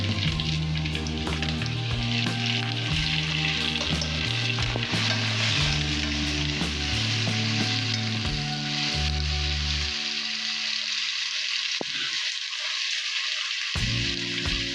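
Tomatoes frying in hot oil for a vanjaram fish gravy, a loud steady sizzle close up throughout, with stirring scrapes and background music over it.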